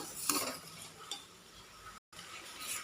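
Rice dry-roasting in a pan with cumin and cardamom seeds while being stirred, soft scraping and light rattling of grains under a faint, steady background, quiet and close, with a brief dropout partway.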